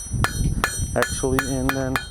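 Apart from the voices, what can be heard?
hammer forging a metal kebab skewer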